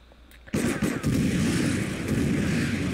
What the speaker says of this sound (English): people are shooting in the air